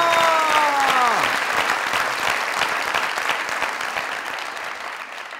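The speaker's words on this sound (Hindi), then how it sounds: "दोनों के लिए बहुत सारी तालियां" Studio audience at a Pakistani comedy talk show breaks into loud, sustained applause, a dense wash of clapping that starts right after a short musical sting and slowly tapers off.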